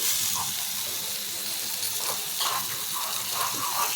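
Fried eggplant goes into a pan of cooked-down spice paste, giving a continuous loud sizzle and hiss with light stirring scrapes, no talk.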